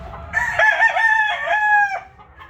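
A yellow-legged hatch rooster crows once, loud and close, in a drawn-out call lasting well over a second, with short clucks at the start and a quiet outdoor background.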